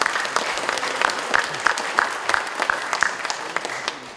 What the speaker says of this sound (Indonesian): Kita berikan aplaus untuk mereka.